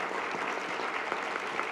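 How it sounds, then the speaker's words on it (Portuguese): Steady applause from an event audience at a legal workshop, a continuous wash of many hands clapping at moderate distance, even in level and without pauses. "eu peço uma salva de palmas pelo evento"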